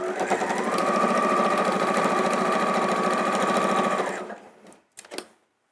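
A sewing machine runs steadily for about four seconds, back stitching through thick layers of a cushion made from thin Tula fabric with appliqué, then stops, followed by a couple of brief handling clicks.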